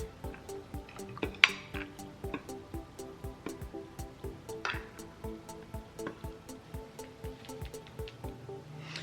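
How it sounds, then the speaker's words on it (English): Flour mixed with yeast, salt and pumpkin spice is sifted through a kitchen strainer for pumpkin cinnamon roll dough, giving a steady, close, rhythmic tapping and rattling with faint rustling underneath and no voices. "Now pour it through a strainer."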